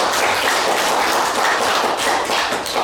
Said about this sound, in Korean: 박수 한번 더 쳐주시면 고맙겠습니다.